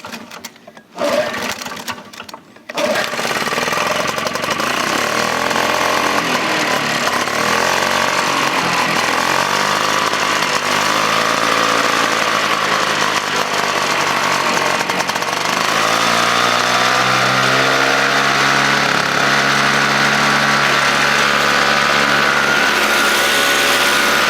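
A Flymo hover lawn mower's small petrol engine is started with the choke on. After a few sputtering seconds it settles into a loud, continuous, buzzing idle that drifts slightly in pitch.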